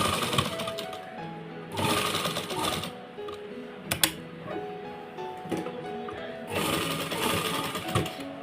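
A sewing machine stitches a design onto a salwar cuff in several loud, rapid bursts of clattering needle action. Short pauses separate the runs.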